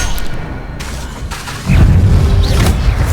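Incendio fire spell cast in Hogwarts Legacy, a short whooshing burst followed by a heavy low boom that flares and rumbles to the end.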